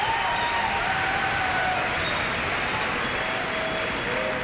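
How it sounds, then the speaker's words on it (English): At a men's semifinal of the 1999 Ford World Curling Championship in Harbour Station, a large arena crowd applauds steadily, a dense, even wash of clapping from a distance. "the crowd responds here at Harbour Station"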